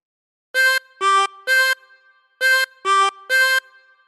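Six clean, sustained chromatic harmonica notes in two matching groups of three, the opening of Frère Jacques, each held briefly with short gaps between, played alone and up close.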